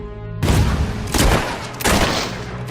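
Gunfire in the video game Fable III: a few heavy, booming bursts of shots in quick succession, loud and close, with noisy rumbling decay and no talking.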